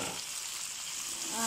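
Steady, close sizzling of shrimp frying in a pan with browned garlic, a dense hiss that holds throughout and brightens slightly at the end, no talking.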